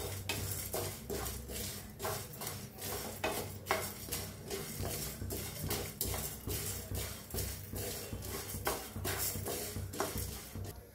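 A spoon scrapes and clatters against a pan as urad dal and cumin seeds are dry-roasted and stirred, a busy irregular rhythm of metallic taps and scrapes heard up close and fairly soft.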